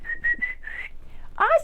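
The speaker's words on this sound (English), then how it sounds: "Ready? Whistle." Several people whistle to call a dog named Oscar: four short steady whistles in a quick row, then a brief louder warbling whistle at the end, close and clear with no talking.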